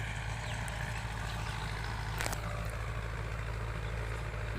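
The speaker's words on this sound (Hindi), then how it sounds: "ये देखें, ये मेरा बाग है सारा और ये ट्रैक्टर चल रहा है।" A tractor with a rotavator runs in a kinnow orchard in Pakistan, a steady low engine drone holding constant and fairly close, with a brief clank partway through.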